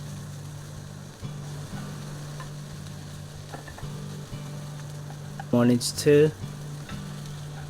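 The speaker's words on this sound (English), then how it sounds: "Just keep stirring, give them a good fry." Baby corn and mangetout are stir-fried in a pan with lotus for a vegetarian Buddha's delight, giving a steady close sizzle with occasional scraping stirs and a brief voice near the end.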